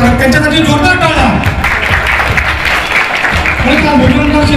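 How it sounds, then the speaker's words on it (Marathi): Crowd applause at a school student felicitation and free notebook distribution event, loud and close, with someone speaking over the clapping throughout. "त्यांच्यासाठी जोरदार टाळ्या."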